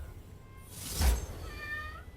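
A cat meows once, a drawn-out cry swelling in the middle and tailing off, fairly close and clear over a low background hum.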